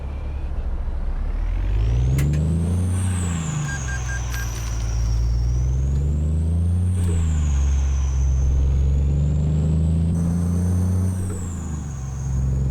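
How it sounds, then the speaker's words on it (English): In American Truck Simulator, a trailer air brake on a heavy-haul truck pulling a 65-ton scissor-neck trailer gives a steady, high whistling hiss over the truck's loud, droning engine, which rises and falls in pitch throughout. "oh, that's a trailer brake"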